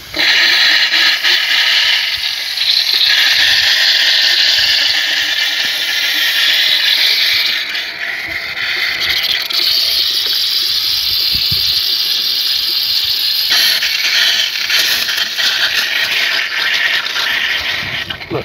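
Coolant being flushed out of a car cooling system after a failed oil cooler: a loud, continuous rushing gush and hiss of spraying liquid, close up and sustained, with slight surges and changes in intensity throughout.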